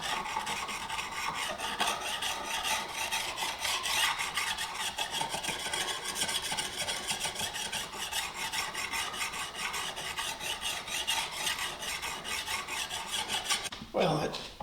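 An ulu knife cut from an old saw blade rasps in steady back-and-forth strokes on a sharpening stone, a close, fairly quiet scraping rhythm that runs throughout, ending in a brief low thump.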